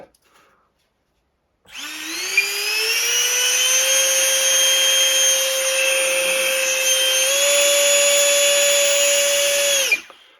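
A micro RC plane's small electric ducted fan motor spins up and runs for about eight seconds, a loud, steady high-pitched whine that rises slightly in pitch, with a brief step partway through, before cutting off abruptly.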